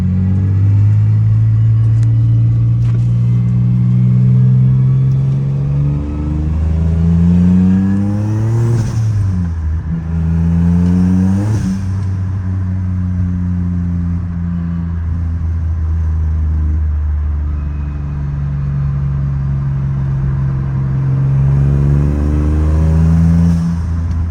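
A loud turbocharged Infiniti G35 engine revs hard and accelerates, pitch climbing, dropping briefly at gear changes, then climbing again, close and continuous.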